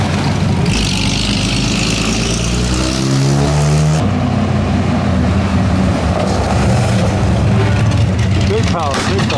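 A Porsche at the 2017 Mille Miglia road rally revs loudly as it sweeps past close by, its engine note rising and then dropping away, with crowd chatter and other traffic noise running underneath.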